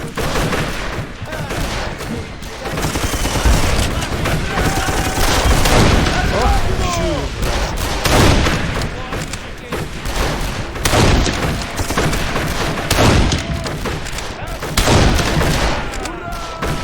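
Gunfire in Darkest of Days rattles through a battle scene, repeated loud shots and bursts at irregular intervals under steady combat noise, with voices talking over the action.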